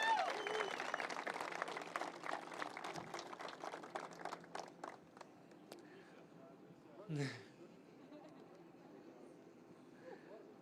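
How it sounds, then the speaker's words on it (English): Audience applause at the opening ceremony for the Gordie Howe Bridge in Canada, a crowd clapping outdoors that gradually thins and fades, with a voice briefly over it near the end. "Give her another round of applause"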